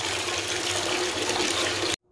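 Steady running water from a tap, a continuous close splashing hiss with a cat playing in the stream, cutting off abruptly at the end.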